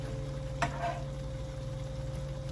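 Onion and garlic fry in a pan as a low, steady sizzle with a single sharp clink of a utensil near the start, continuous and fairly quiet.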